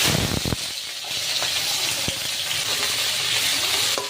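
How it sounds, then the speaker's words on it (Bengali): Chicken pieces hit hot oil with a sharp clatter, then settle into a continuous close sizzle and hiss with a few faint scrapes, and no voices. "এখন আমি চিকেনগুলো ভেজে নেব।"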